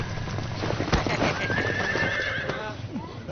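Horse galloping with clip-clop hoofbeats and a loud neigh during a mounted skirmish in a period drama, with shouts and a crash in the mix.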